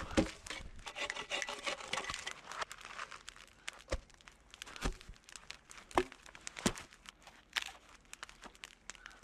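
Chunks of firewood knocked and shifted as they are stacked beside a campfire in the Alaskan wilderness, giving sharp woody clacks and scraping rubs at irregular intervals, close and fairly quiet with no talking.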